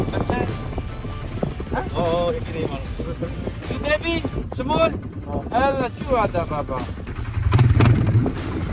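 A jeep drives over desert dunes on a safari outside Dubai, its engine rumbling steadily and surging under loud chatter and excited voices, with the motor revving harder near the end.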